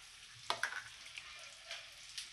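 Egg balls fry in Amul butter in a pan, giving a soft, steady sizzle with a few sharp crackling pops near the start. The sound is close but quiet.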